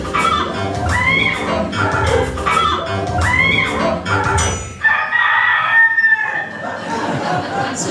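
A rooster crows loudly several times in succession, with crowd-like murmur and some clucking underneath, close and prominent throughout.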